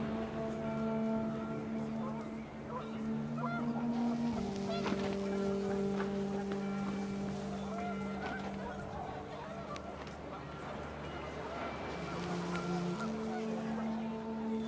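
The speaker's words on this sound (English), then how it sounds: "The wind picked up and panicked geese appeared and quickly went." Panicked geese honking in the video game What Remains of Edith Finch, a steady chorus of overlapping nasal honks held at a constant loudness over wind, continuing throughout with no voices.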